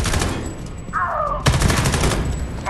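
Rapid bursts of gunfire crackle close and loud in the video game Homefront: The Revolution on PS4, with a sharp heavy shot midway and a brief whooshing tone.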